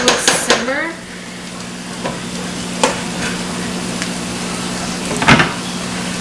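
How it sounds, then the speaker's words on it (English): Cream is stirred into mushrooms simmering in a pan for a vegan green bean casserole, a spoon scraping and swishing over a soft, steady sizzle, with a couple of sharper clinks of utensil against pan. "stir the cream into the mushrooms"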